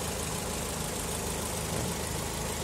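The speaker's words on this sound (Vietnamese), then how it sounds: "máy chạy khá là chất, êm." A 2009 Tobe M'car car with an automatic transmission idles steadily and close by, giving a constant even engine drone with no talking.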